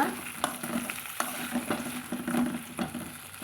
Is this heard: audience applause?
no